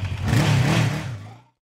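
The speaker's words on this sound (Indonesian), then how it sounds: "Dengan menggunakan sepeda motor, mereka pun segera pergi ke sana." A motorcycle engine revs in a zombie film, a loud mid-pitched roar that holds steady for about a second before fading quickly to silence.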